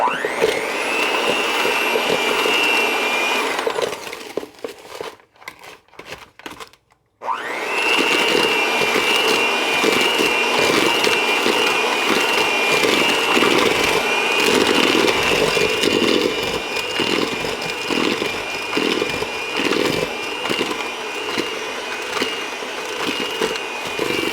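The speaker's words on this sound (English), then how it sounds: "I'm just going to use my hand mixer, and we're just going to mix the butter and the sugar." An electric hand mixer creams butter and sugar for an apple butter spice cake, a loud steady motor whine that drops out briefly partway through, then resumes and runs continuously to the end.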